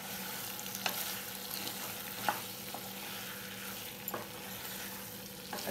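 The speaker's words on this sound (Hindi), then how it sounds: "मिक्स करेंगे अपन, स्लो पे करके मिक्स करेंगे, क्योंकि पूरा ग्रेवी में पास्ता मिक्स होना है" Pasta being slowly stirred into red gravy in a pan, a continuous soft sizzle with occasional light spoon taps and scrapes, no voices.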